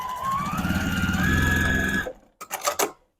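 A sewing machine runs steadily for about two seconds while stitching a border onto a beginner's quilt, then stops, followed by a few short mechanical clicks and clatters.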